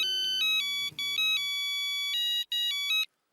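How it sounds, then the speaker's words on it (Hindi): Electronic telephone ringtone sounding while a call is placed to a doctor, a bright repeating melodic trill in steady bursts with brief gaps, clear and alone, with a faint voice murmuring near the start. "सबसे पहले हाथी भाई को फोन करता हूँ।"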